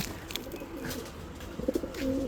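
A racing pigeon returning from a 612 km race coos in short low bursts near the loft, the soft calls rising toward the end over a faint background murmur.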